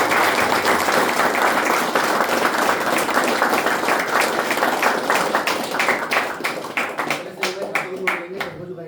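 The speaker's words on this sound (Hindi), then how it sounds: "जोरदार तालियां इसके लिए" Group at a rehab centre sharing session applauding a recovery birthday, loud sustained clapping from many hands that gradually thins into a few separate, distinct claps toward the end, with talk faintly mixed in.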